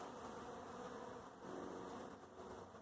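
Honeybees drone in a dense, steady buzz at close range around a weak hive where an absconding or virgin-queen disturbance is underway, the hum continuous and unbroken with no voices.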